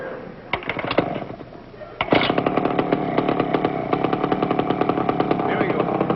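A small motor engine, started like an outboard, sputters into life after a couple of sharp pulls and then runs in a rapid, rattling putter with a steady pulse, loud and close, with a voice heard near it.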